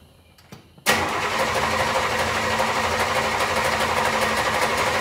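An old carbureted car, left sitting about six days with an Airtex electric fuel pump, cranks: after a few faint clicks, a loud, steady whirring starter drone kicks in abruptly and runs on without pause, close and continuous.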